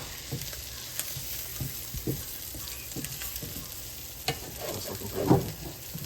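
Fish frying in butter in a hot pan for blackened fish tacos, a steady soft sizzle broken by scattered utensil taps and scrapes, one louder clatter near the end, close and moderately quiet.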